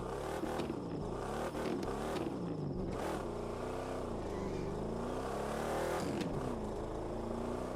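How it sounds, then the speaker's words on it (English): A 1963 Corvette Grand Sport in the racing game The Crew 2 fires up and revs, its loud V8 growl rising and falling in a couple of throttle blips before settling into a rough, steady idle. "let's hear this thing start up real fast, because honestly, it's probably one of my favorite things about this car being added is the sound alone"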